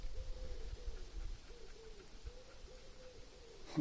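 Soft, repeated cooing calls roll on in a low, regular rhythm, faint and close, like a pigeon murmuring over quiet background noise.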